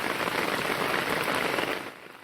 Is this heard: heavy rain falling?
yes